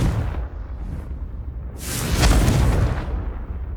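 A Confringo spell explodes in Hogwarts Legacy, a loud, sharp blast bursting midway and followed by a rumbling decay, after quieter low rumble.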